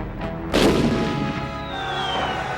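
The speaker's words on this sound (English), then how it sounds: "Hemmed in by Wainwright in the Mimi, Spicer's cannon blasts a fatal wound in the Wisman's engine room" A ship's cannon fires in a lake battle on Lake Tanganyika: one sudden loud boom with a long rumbling tail, over a continuous background of sustained tones.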